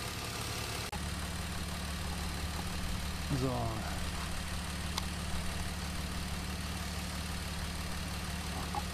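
A BMW E46 with the M54 engine idles steadily during cooling system filling and bleeding, a constant low hum throughout with a brief voice over it.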